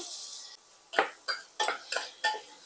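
Garlic and vegetables, capsicum and onion among them, stir-frying in butter in a pan. About five distinct scraping and clinking strokes arrive in an uneven rhythm, close by and with no talking.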